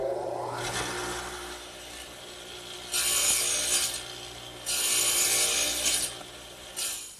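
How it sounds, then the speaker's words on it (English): A radial arm saw fitted with a two-blade dado head plows a half-inch-wide, 5/16-inch-deep groove in wood, giving a quiet motor hum with three loud rasping cutting passes of rising and falling intensity. "the material using my radial arm saw set up with this 2-blade dado head, which will plow out about a 1/2 inch of material"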